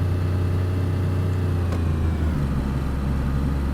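A small budget car in DayZ strains as it accelerates, its low engine drone steady and loud, pitch shifting slightly as the gearbox changes, with no talking over it.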